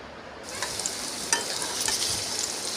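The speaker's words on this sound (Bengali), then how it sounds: "তারপরে আলুটা দিয়ে দিলাম, আলুটা ভাজছি।" Potatoes fry in oil in a pan, giving off a steady, close sizzle that swells after a quiet start, with a few stirring scrapes and no voices.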